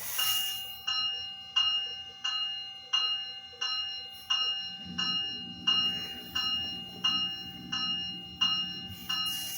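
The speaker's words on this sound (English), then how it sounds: "Let's try the bell again." Sound-effect bell of a new DCC model train locomotive rings steadily, about a dozen evenly spaced clangs that each decay, close and clear, with a low motor hum rising partway through and no talk.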